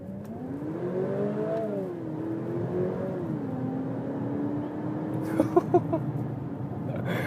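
An Infiniti Q30 engine revs up and settles, its tone rising and falling in smooth pulls at close range, with a few sharp clicks near the end.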